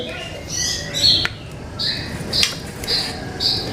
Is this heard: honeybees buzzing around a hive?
no